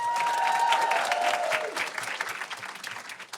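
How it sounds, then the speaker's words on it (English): An audience applauds a panel of speakers, a dense burst of clapping that stays full for a moment, then thins and tapers off, with a faint tone sounding briefly at the start. "Y'all give them a round of applause."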